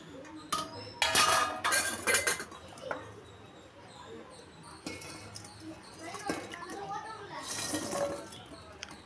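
Fried gulab jamuns being dropped into cooled sugar syrup in a home kitchen, with clinks of a utensil against a metal pot and wet plops in several bursts, close and fairly loud.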